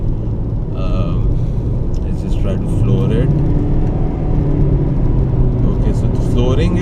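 A Toyota Corolla Fielder with a 1500cc hybrid engine accelerating at full throttle, a steady low engine drone and road rumble from inside the car, with people talking over it.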